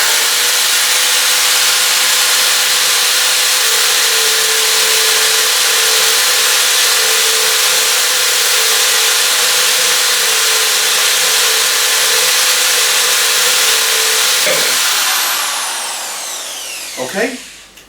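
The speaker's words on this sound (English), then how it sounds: "you can then raise the drill and drill a hole" A drill bores through a ceramic plate kept wet with poured water, giving a steady, loud grinding whine with a sustained tone for about fifteen seconds before it winds down and stops.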